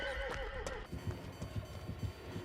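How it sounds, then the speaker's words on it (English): A horse in the video game Dead by Daylight whinnies loudly and close, a shrill neigh in the first second followed by a few soft hoof clops and snorts. "She goes to pet the horse."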